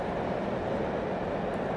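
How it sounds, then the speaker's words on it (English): A commuter train bound for Brunswick rolls past with a broad, steady rumble, loud and close, holding level throughout without a break. "Commuter train, again bound for Brunswick"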